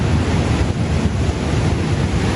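Storm-driven ocean waves crashing beside a coastal highway, a loud, continuous churning surge mixed with heavy wind buffeting the microphone, with no voices.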